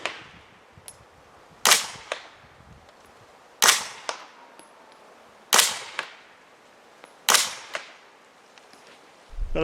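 Suppressed Zenith Z5 RS, an MP5 clone, firing six evenly spaced single shots, each a sharp close crack with a short decaying tail, and quiet gaps between them.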